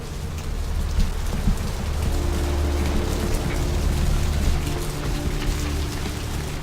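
Steady, dense rainfall patters on surfaces in the video game Vampire: The Masquerade – Bloodlines, a close, continuous hiss with a low rumbling undertone and no voices.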